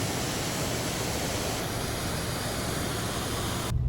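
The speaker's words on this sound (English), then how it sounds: "Another cool little waterfall here." Small roadside waterfall in Zamora, Ecuador, a steady, loud broadband rush of falling water that continues unbroken and close by, with no voices over it.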